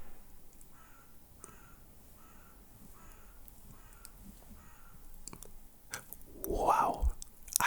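A crow caws outdoors, a loud, harsh call near the end that follows a stretch of quiet, soft close-up rustling and mouth sounds.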